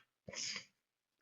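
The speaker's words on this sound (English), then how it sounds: "I'm gonna have to sneeze here in a second." A single close sneeze, sharp and breathy, bursting out briefly between quiet moments.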